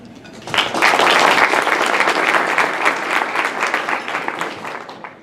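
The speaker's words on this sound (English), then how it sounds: "let's give everyone one more round of applause" A crowd of Rotary club guests and members bursts into sustained applause, loud and dense at first, then thinning gradually toward the end, with no talking over it.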